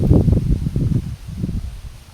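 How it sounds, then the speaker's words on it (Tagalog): Strong wind buffets the microphone in low, rumbling gusts that surge and fade over a couple of seconds, with no voices present. "Sobrang mahangin"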